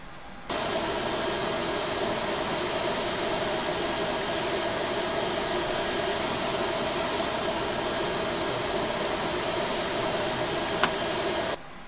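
Simulated Airbus A320 jet engines running steadily in Flight Simulator X, a loud constant broadband roar and hiss with a faint tonal whine, sustained evenly throughout after a short quiet start.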